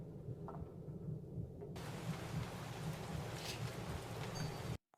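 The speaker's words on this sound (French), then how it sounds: "Pourquoi il pleut?" Steady rain with rumbling thunder from a scene in the 1979 film Alien, a dense, continuous downpour that swells suddenly partway through and then cuts off abruptly at the end.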